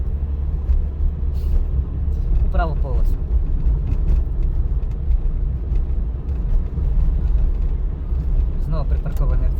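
A car drives along a road during a driving exam, with a steady low engine and tyre rumble, while a voice speaks over it close by in Ukrainian.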